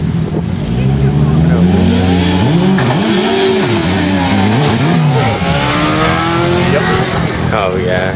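A drag racing motorcycle roars hard off the line and down the strip, its loud engine pitch sweeping and wavering as it accelerates, with crowd or commentator voices underneath.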